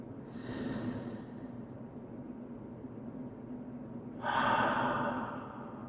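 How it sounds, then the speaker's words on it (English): Slow audible exhales through the mouth during a guided wellness breathing exercise, two long breathy rushes of air a few seconds apart, close and soft. "Let your breath fill up your belly. And your mouth make a sound as you exhale."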